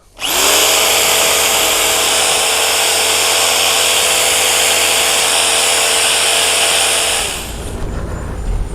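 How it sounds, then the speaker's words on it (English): A hammer drill with a masonry bit roars continuously into sandstone for about seven seconds, loud and close, then winds down, leaving gritty scraping. "I'm using one of these hammer drills with a masonry bit."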